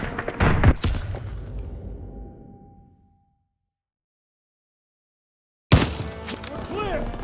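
A grenade detonates in a Call of Duty WWII firefight, a loud sharp blast whose rumble decays over a few seconds into silence before battle noise and shouting resume.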